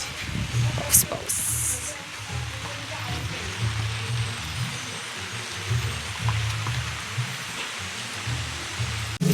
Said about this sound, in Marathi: पाऊस पाऊस.